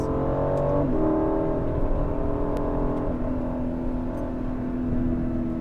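A Formula 1 car on the Miami Grand Prix circuit heads into the pit entry after the tight turn 17 hairpin, its engine whirring in a steady, close drone that drops in pitch in steps as it slows, with no talk.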